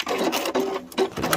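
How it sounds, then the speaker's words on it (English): Sewing machine stitching off the corner of a fabric rotary cutter pouch, a brief close burst of rapid mechanical needle chatter in short pulses. "stitch off the corner."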